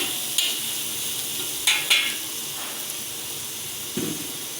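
Dried chilies sizzle steadily in hot oil with a constant hiss, broken by a few sharp crackles and spatters, close by and without speech.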